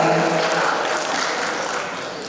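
Audience applause at a formal sports organisation ceremony in Kepri, a dense wash of clapping that starts loud and fades gradually over a couple of seconds, with no voices over it.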